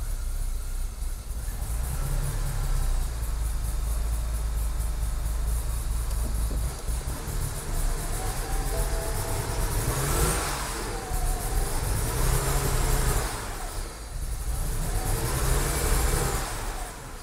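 A BMW E90 335i with the N54 twin-turbo engine, in limp mode with a fault, runs steadily close by, a continuous broadband drone with a couple of swells as it revs slightly.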